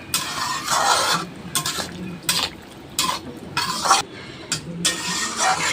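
A spatula repeatedly scrapes and stirs a sizzling jackfruit, cashew and poppy seed curry in a metal pan, giving rhythmic bursts of scraping with brief pauses between strokes, close and fairly loud.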